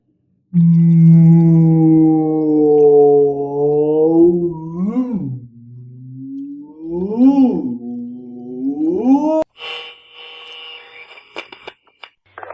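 A voice imitates whale mating calls, long rising and falling moaning groans in three drawn-out phrases, loud and close, ending with a brief burst of static-like noise.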